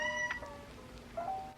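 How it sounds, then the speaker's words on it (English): A pet cat meows indoors, two short, fairly faint tonal meows with a pause between them against a quiet room background. "yeah, my cat's excited too."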